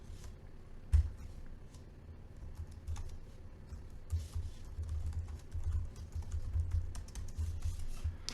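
Typing code on a computer keyboard in Xcode on a Mac, a steady run of close, quiet key clicks with occasional louder strokes, alone over a low room hum with no talking.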